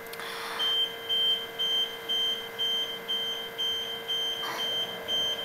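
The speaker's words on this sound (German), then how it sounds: "Alarmanlage vom Auto." A steady electronic beeping repeats at an even pace, a thin high tone pulsing about twice a second over a constant hum and background noise.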